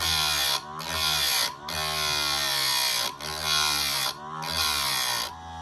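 A chainsaw chain sharpening grinder grinds chain teeth in repeated passes, a loud, steady high-pitched whine broken by short dips about every second as it moves from tooth to tooth.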